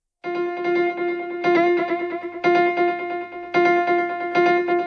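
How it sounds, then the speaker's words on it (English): A sustained, buzzy electric instrument tone from the GS-201 MKII played in several struck notes, each followed by repeating tape echoes that smear and trail behind it. "you can increase the echo volume here to hear the echo"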